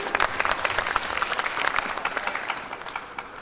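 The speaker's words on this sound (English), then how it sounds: "Can I request you all to give a big round of applause to all the people?" An audience at a tax conference applauds, many hands clapping in a dense, crackling burst that starts strong and gradually thins and softens toward the end.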